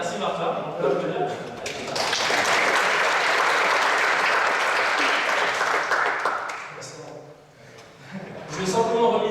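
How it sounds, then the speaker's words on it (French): An audience at a public thesis defence claps for a volunteer named Martin. Talk at the start gives way to a full burst of applause that swells, holds, then fades, and speech returns over the last scattered claps. "on peut l'applaudir."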